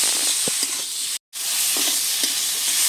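Large shell-on shrimp stir-fry in a spiced masala with a close, steady sizzle, soft stirring scrapes and one brief silent gap.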